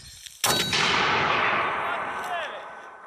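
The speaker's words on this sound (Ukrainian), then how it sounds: "60-міліметровий американський міномет М224. Постріл!" A single sharp, loud shot from an American M224 60mm mortar cracks out at a training range, followed by a long ringing, echoing decay that fades over a few seconds outdoors.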